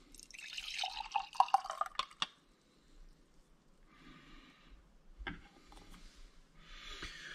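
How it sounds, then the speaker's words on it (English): Red wine jelly liquid poured from a measuring beaker into dessert cups, giving close, light dripping and trickling splashes in short bursts with quiet pauses between pours. "to pour it into the cup that you want"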